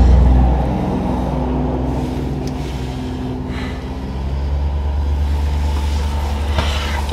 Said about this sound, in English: I can only apologise, we have incessant traffic here today.